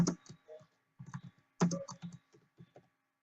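Typing on a computer keyboard comes as short bursts of close, crisp key clicks separated by brief pauses.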